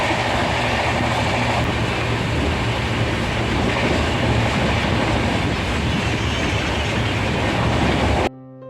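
The Saraighat Express from Howrah to Guwahati rumbles along the rails with a steady loud roar and a rhythmic clickety-clack, heard from inside the train until it cuts off at the end.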